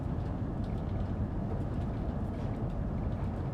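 Train running in Train Sim World 3, a steady low rumble and hum of wheels on track, continuous and even, with no talk.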